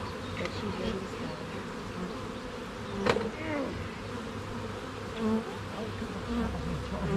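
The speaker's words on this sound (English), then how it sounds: "Lots of bees." Honeybees buzz steadily around a beehive, a dense droning hum close by that holds throughout with little change.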